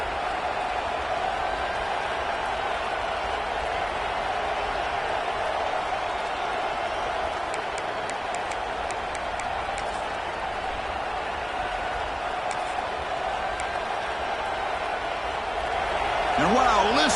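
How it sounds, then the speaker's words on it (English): A dense, roaring stadium crowd in the Madden football video game fills the scene with a continuous loud wash of cheering, with a few sharp claps or thuds near the middle and a swell at the end. "listen to this crowd noise. This stadium is vibrating."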